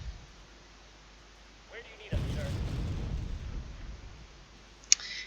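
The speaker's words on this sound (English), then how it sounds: "I had to bomb them" Artillery bombardment in a strategy video game: a single muffled, rumbling blast lasting about two seconds, fairly faint, followed by a sharp click.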